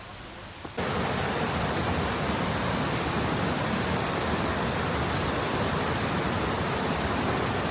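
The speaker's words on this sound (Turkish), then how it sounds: "Şelale. Su dökülen yere iniyor aslında." A waterfall at a nature campsite, water pouring down in a steady, loud broadband roar that starts abruptly after a brief quiet moment and runs unbroken to the end.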